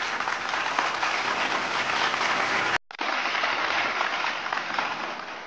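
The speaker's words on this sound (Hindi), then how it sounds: "जोरदार तालियां दोस्तों।" A seated audience at an awards ceremony claps loudly and continuously, a dense even roar of applause broken by a brief cut near the middle before resuming.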